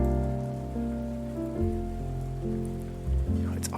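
Steady rain patter on surfaces forms a constant hiss beneath slow jazz music with sustained low tones in a coffee-shop style ambience recording, continuous and fairly loud, with no voices.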